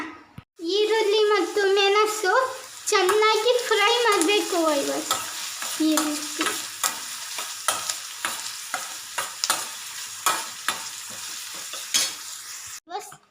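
Oil heating in a cooking pan gives a soft, steady sizzle under a voice that talks at first. Regular clicks and taps follow as the talking fades.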